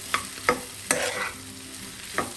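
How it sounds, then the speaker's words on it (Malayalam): Potato masala for a Kerala-style mezhukkupuratti is stirred in a frying pan: several distinct scraping strokes over a soft, constant sizzle, close up with no voices. "എല്ലാം കൂടെ നന്നായി മിക്സ് ചെയ്യാം"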